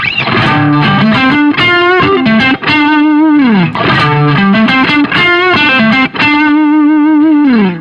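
Electric guitar through a Tube Screamer-style overdrive pedal plays a melodic line of bent and sustained notes, thick and saturated, loud and close with no voices.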